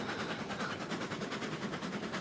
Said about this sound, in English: this train's a little lighter and it's going a little faster